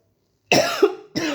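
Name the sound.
sudden cough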